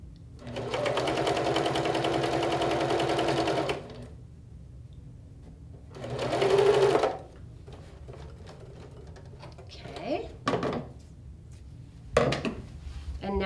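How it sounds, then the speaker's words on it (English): A sewing machine stitches quilt seams joining squares of fabric into a row, two bursts of rapid steady whirring close by, the first about four seconds and the second shorter, followed by soft handling clicks and taps. "just line up your seams again and sew"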